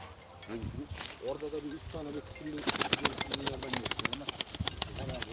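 Tumbler pigeons in a coop give low, repeated cooing calls, with bursts of sharp clicks and wing flaps in the second half, while someone talks over them nearby.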